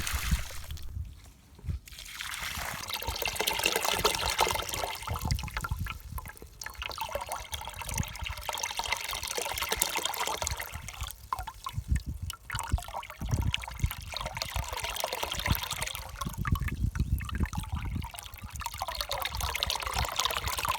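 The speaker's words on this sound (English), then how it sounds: "Matt made a water pump able to pull a large amount of water." Homemade PVC-pipe water pump with check valves pulling a large flow of water, a continuous pouring and splashing rush that swells in repeated surges, fairly loud and close with no talking.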